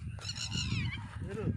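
A waterfowl known as pani bhatou gives a loud, nasal honking call at close range over a low background rumble from farmland beside the Gelabil river.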